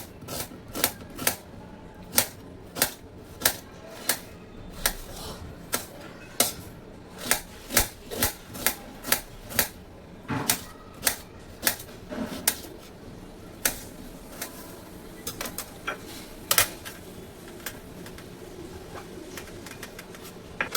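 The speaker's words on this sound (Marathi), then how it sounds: "हा कांदा आता धुवून घेतलेला आहे, याला मी कटिंग करून घेते।" A knife chops a washed onion on a board in a home kitchen, sharp dry knocks coming in irregular runs, close and clear with no talk.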